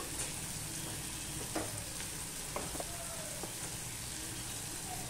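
Onion and green chillies fry in oil for a spicy Bengali prawn dish, a soft steady sizzle with a few scattered utensil taps, quiet and without talk.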